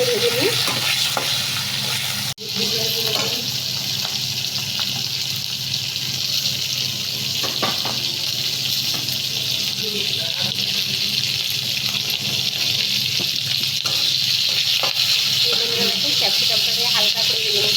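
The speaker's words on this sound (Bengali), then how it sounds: "এই ক্যাপসিকামটা একটু হালকা করে ভেজে নিই।" Capsicum frying in a pan with a steady, close sizzle and hiss throughout, broken by a few stirring scrapes and one sharp knock.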